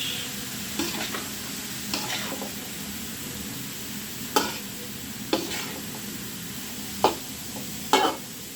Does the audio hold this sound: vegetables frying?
yes